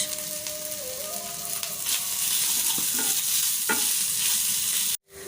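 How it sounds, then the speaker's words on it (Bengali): Ginger and garlic sauté in a pan for chili chicken, a steady close sizzle with scraping stirs throughout, ending in a brief sharp clatter. "আমি আদা এক চামচ এবং রসুন একটা চামচ দিয়ে কষিয়ে নিয়েছি"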